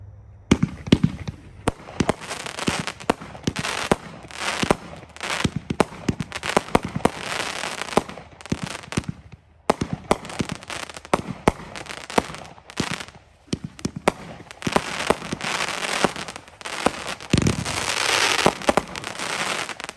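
A 25-shot Summer Sizzler consumer firework cake fires at an outdoor demo, loud bursts and sharp cracks following one another with crackling tails in an uneven sequence, without talk.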